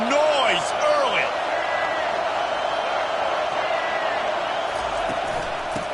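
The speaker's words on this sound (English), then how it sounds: "This crowd bringing the energy and noise early." Stadium crowd at a football game roars with steady, loud broad noise, scattered whistles and cheers rising over the din throughout.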